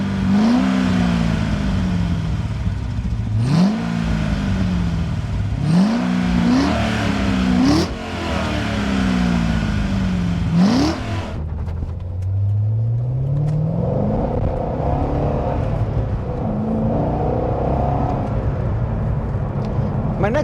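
A Chevrolet C6 Corvette Z06 engine revs hard through several quick upshifts, each pull rising then dropping, before a longer lower climb with tires struggling for traction; loud and close, with faint talk mixed in.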